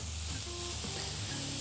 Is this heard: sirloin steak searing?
yes